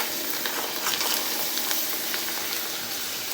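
Appalam, the thin Tamil urad dal papad, frying in hot oil for a Pongal festival lunch, giving a steady close crackling sizzle with bursts of bubbling and no voices.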